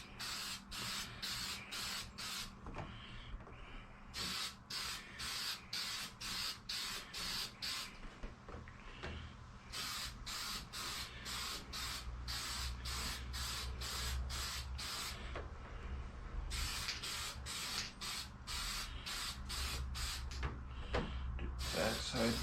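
Aerosol spray paint is applied as a third coat to an RC car body. It comes as a series of loud hissing bursts, each a second or two long, in several groups with short pauses between them. A faint low hum runs underneath.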